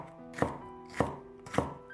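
A knife chops through green pepper on a cutting board, three crisp evenly spaced strikes close by, with no voices.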